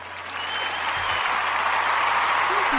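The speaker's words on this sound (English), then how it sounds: "we're going to give her a round of applause." A round of applause builds from a crowd, a dense, even wash of clapping that swells slightly and holds steady, fairly loud and uninterrupted.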